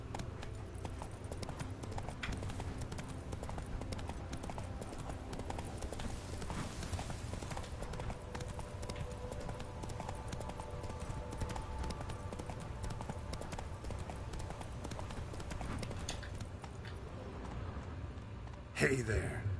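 Roach the horse in Witcher 3 gallops with a steady, continuous clip-clop of hooves, loud and close, running nearly unbroken beneath a game soundtrack and a man's occasional speech, ending in a brief louder burst.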